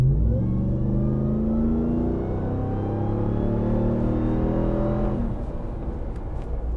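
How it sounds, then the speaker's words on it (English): A 2021 RAM 1500 TRX pickup engine accelerates at about half throttle, a loud, close, steadily rising drone that eases off near the end, with no speech. "That's really not even pushing the throttle all the way down. That's probably maybe about half throttle"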